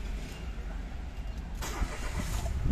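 A 2022 Mitsubishi Attrage with a 1.2-litre engine turns over and settles into a quiet, steady idle, a low continuous rumble close by with a brief surge partway through and no talking.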